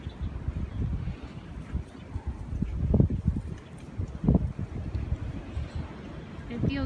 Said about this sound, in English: It feels very cold out because that wind is blistering.